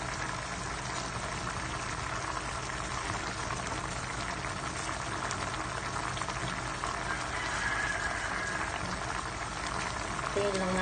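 Broth with smoked fish and tomato boils steadily in a pot, a dense continuous bubbling hiss that holds at an even level from start to finish.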